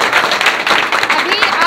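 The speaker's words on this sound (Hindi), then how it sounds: "तालियां बजाइए भाई।" A crowd at a network marketing event applauds: a short, loud burst of clapping, mixed with voices talking.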